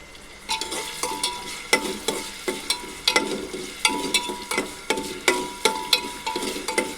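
Onion and curry leaves frying in a pan for chicken biryani, a steady close sizzle broken by repeated sharp scrapes and clinks of a spoon stirring at an irregular rhythm, with no talking.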